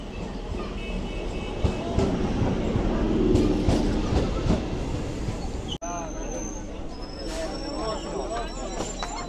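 A passenger train pulls in with a steady rumble and rhythmic clatter of wheels on rails, loud and close, while voices murmur throughout.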